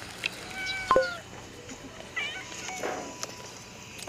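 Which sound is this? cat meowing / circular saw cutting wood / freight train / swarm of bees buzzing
cat meowing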